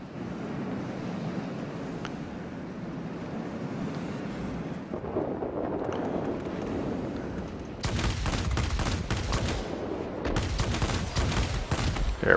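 Ta 183 fighter plane cannons in World of Warplanes firing in dense, rapid bursts over a steady engine drone, growing louder and more continuous toward the end.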